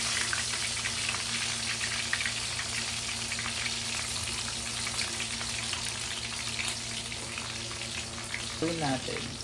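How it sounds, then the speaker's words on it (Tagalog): Tilapia frying in a pan of hot, splattering oil, a steady dense sizzle with scattered pops that holds throughout, close and fairly loud, with a brief faint voice near the end. "Tilamsik ng mantika."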